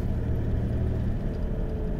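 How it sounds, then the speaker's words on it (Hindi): Road traffic jammed on a route near Mohaan by Jim Corbett begins moving, a steady low rumble of car and bus engines close by, continuous and even with no voices. "अब ये ट्रैफिक चलना शुरू हुआ है"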